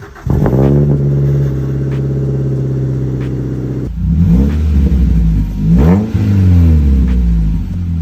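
A Mazda 3 engine with second catalytic converter and resonator deleted starts and idles with a deep, raspy exhaust drone, then revs up several times with loud, throaty pulls.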